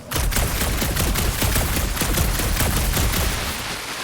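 Rapid, dense bursts of gunfire roar continuously from a firefight in the video game Marvel's Guardians of the Galaxy, loud and close, easing slightly near the end.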